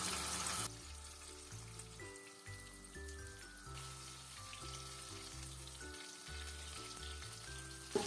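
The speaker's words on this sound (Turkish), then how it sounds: "Bamyalarımız kızardı ve çok çok güzel oldu arkadaşlar." Okra frying in a pan of hot oil gives a steady, faint crackling sizzle that runs throughout, under louder background music.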